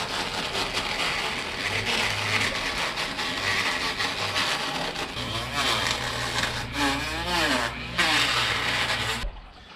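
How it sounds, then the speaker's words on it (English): A Dremel tool lightly sands a carved wooden Christmas tree with a steady, close buzzing whir and rough rubbing that shifts in pitch as the pressure changes, then stops abruptly at the end. "next we're just gonna lightly sand everything and see how it looks."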